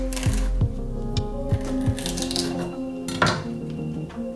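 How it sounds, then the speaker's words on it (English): A knife cuts the large stem out of a stack of leaves on a cutting board while prepping a vegan stir fry, with a few sharp knocks and clinks ringing out close by, then a louder clatter near the end. "I like to put it darker side down, and then slice out the big stem"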